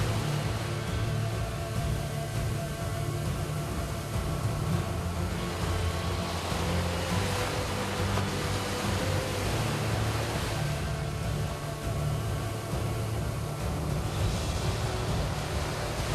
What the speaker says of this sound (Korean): 파도가 사정없이 그의 몸을 덮칩니다.